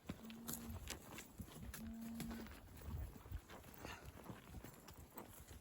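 Faint cattle lowing in the distance during a summer cattle drive in Utah, two drawn-out moos over steady outdoor noise and occasional hoof clatter.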